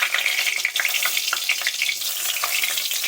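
Two bay leaves crackle and sizzle in a generous pool of hot soybean oil in a wok, a steady close, loud frying hiss with small pops throughout and no voices.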